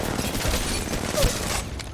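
Gunfire in the mobile battle royale Apex Legends Mobile: a short, dense burst of shots and booms at moderate loudness, continuous across the brief moment with no voice over it.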